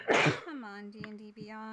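One loud sneeze bursts out, followed right away by someone speaking.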